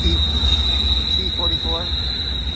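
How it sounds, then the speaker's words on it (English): A BNSF intermodal freight train passes on the main track with a steady rumbling roar and a constant high wheel squeal, while a person talks quietly over it. "Oh, here we go, here's the train out here."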